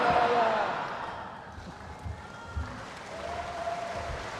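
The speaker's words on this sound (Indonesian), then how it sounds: "Kita beri tepuk tangan yang paling meriah hadirin sekalian." Crowd applause after a political speech at a PDI Perjuangan national working meeting, a fading wash of clapping from a large hall audience, with scattered louder claps and thuds as it tapers off.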